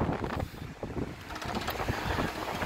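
Heavy wind buffets the microphone, a loud, uneven rumble that gusts and surges without letup, with no voices.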